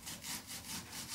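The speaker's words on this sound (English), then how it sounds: "Now what I'm cutting right now is sweet onions." Knife slicing sweet onions into quarter-inch rounds on a board, a few quick rhythmic rasping strokes heard close up, faint and alone.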